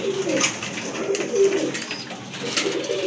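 Racer and Giribaz pigeons coo softly in repeated low, throaty calls, close by, with a light background hiss and no talking.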